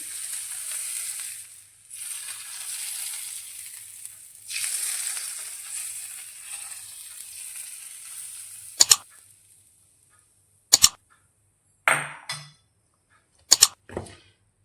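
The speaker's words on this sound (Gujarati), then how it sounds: "પહેલા વઘારને આપણે આ રીતે ઢોકળા ઉપર રેડી દઈશું." Hot tempering poured over green peas dhokla gives a steady bright sizzle for about nine seconds, briefly dipping twice, then a few sharp clinks and knocks of utensils follow with no talk.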